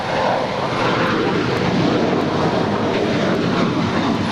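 A Philippine Airlines heavy airliner departs LAX, its engines a loud, steady broadband roar that holds unbroken throughout, with no voices over it.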